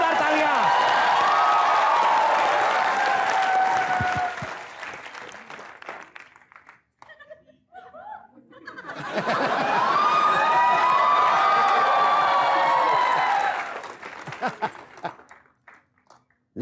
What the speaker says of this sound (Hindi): एक बार बमन सर के लिए जोरदार तालियां